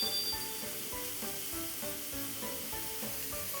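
Yellowtail sears in a hot pan, a steady close sizzle and hiss with a faint underlying hum, continuous with no talking.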